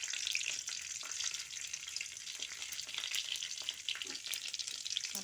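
Mustard seeds, urad dal and cumin fry in hot oil for a fish curry, giving a steady, bright crackling sizzle with dense tiny pops, close and continuous, with no voices.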